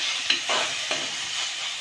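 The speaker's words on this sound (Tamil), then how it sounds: "லைட்டாக ஆயில் பண்ணிட்டு நெக்ஸ்ட்டு வந்து தக்காளி போட்டாச்சு" Tomatoes frying in a little oil, with a steady close sizzle broken by a few quick stirring scrapes.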